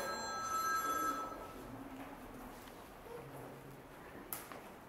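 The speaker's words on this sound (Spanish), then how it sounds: "Por favor, apagad los móviles." A mobile phone rings among a live poetry-performance audience, a bright repeating electronic tone in the first second and a half, then fading into quiet room noise with a faint click near the end.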